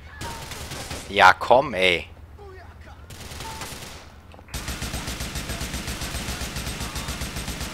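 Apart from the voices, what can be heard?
gunfire in the video game GTA IV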